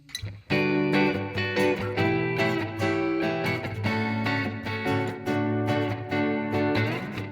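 A guitar chorus part strummed by hand without a pick, full and steady chords with a soft attack, played close and alone at a moderate level.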